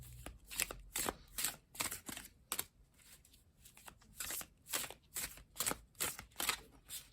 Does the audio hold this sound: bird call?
no